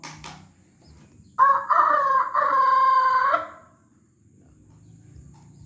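A man imitates a rooster crowing with his voice: one loud, drawn-out cock-a-doodle-doo in several rising and falling parts, near and clear over a quiet background.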